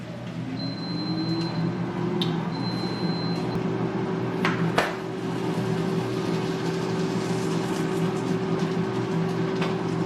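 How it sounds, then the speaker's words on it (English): An air fryer preheating in a home kitchen gives a steady, even fan hum with a faint electrical whine that runs unbroken the whole time, with a small click partway through. "I'm talking a little louder because my air fryer is on."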